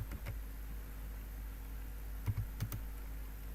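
Quick clicks of typing on a computer keyboard, a short burst near the start and another cluster of keystrokes later, faint and close against a steady low hum.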